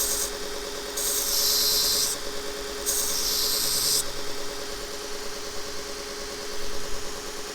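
A small drill bit being sharpened on a Vevor 1x30 belt grinder, giving a steady abrasive rasp over a constant motor hum, with two louder bursts of grinding contact in the first half.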